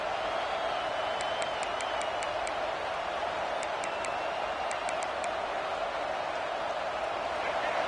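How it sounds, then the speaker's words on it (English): A video game college football stadium crowd roars in a constant wash of cheering noise, broad and distant, with a few faint whistle-like tones rising above it. "This crowd bringing the energy and noise early."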